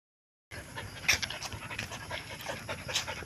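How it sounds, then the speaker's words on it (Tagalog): A husky panting steadily out on a walk, quick close breaths in an even rhythm with a few sharper gasps, loud and near against a faint outdoor background. "Hinihingal ka na."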